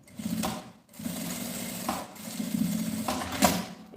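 A sewing machine stitches a fabric pouch in short bursts of rapid, rhythmic whirring, pausing briefly between runs, quiet and close with no voices over it.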